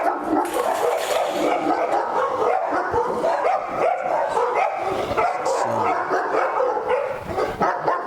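Several dogs bark and yip at once on a Cane Corso breeding farm, a dense continuous chorus of overlapping barks and whines, loud and close with no clear gaps.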